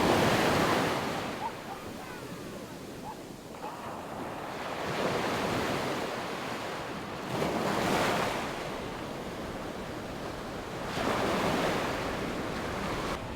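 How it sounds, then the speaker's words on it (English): Ocean waves roll in and break on a beach at Puerto Escondido, Oaxaca, Mexico, in slow surges, each swelling and fading, with steady wind noise across the microphone. "And look at these waves."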